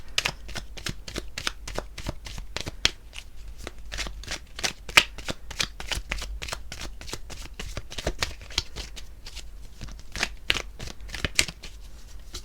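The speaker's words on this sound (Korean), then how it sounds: "제가 추가 카드를 한번 뽑아볼게요." A deck of tarot cards is shuffled repeatedly at close range, with steady rapid riffling and papery slaps that continue evenly for about twelve seconds with no speech.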